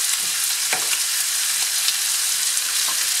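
Pork and vegetables for rice noodle pansit sauté in a pan, loud and close, a constant sizzle punctuated by several soft scraping stirs at irregular intervals; no speech.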